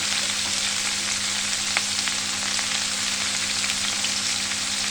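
Ginger paste frying in a pan for a fish head and Malabar spinach curry, an even close sizzle with faint stirring ticks, no voices.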